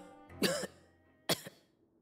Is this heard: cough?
yes